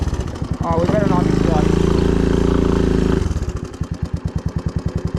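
A three-wheeler motorcycle pushes through flood water, its engine loud and close with a steady pulsing putter that surges, then settles into rhythmic chugging; a person's voice is heard briefly over it.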